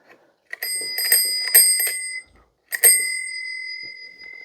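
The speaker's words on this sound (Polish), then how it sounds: "To jest oryginalny dzwonek Rometa." An original period bell on a Romet Pony 50-M-1 moped is rung close up, a bright metallic ding-ding in two bursts of several rapid strikes with a short pause between, then a ringing decay into silence.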